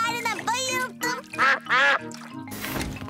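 Cartoon ducks quack in quick bursts in a Peppa Pig episode, the loud nasal calls alternating with animated character voices.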